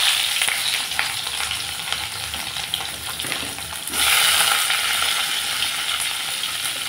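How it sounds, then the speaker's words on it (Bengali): Moringa drumsticks, potatoes and tomatoes hit hot mustard oil with five-spice in a wok, giving a steady close sizzle that surges louder midway and stays strong. "এখন আমি সজনা আর আলু টমেটো দিয়ে দিচ্ছি।"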